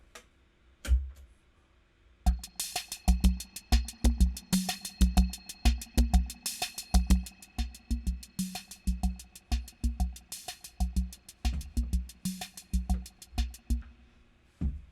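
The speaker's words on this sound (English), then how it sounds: "here's the sound of slow rock mixed with rumba" A Yamaha EM90A drum machine plays a steady slow rock and rumba rhythm of kick drums and crisp, rapid ticking percussion, clear and fairly quiet.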